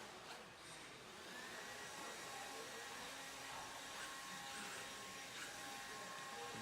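A blower clears an indoor RC race track, a faint, steady whooshing roar that carries on throughout without a break.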